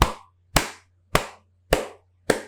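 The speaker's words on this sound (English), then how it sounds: "Yeah, that's a slow clap" Five slow, evenly spaced hand claps, each a sharp loud smack about half a second apart, close and alone with faint hum between them.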